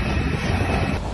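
Narsingdi Commuter train pulling into Dhaka Cantonment railway station, heard from inside as a loud, steady rumble with wind noise that shifts slightly near the end.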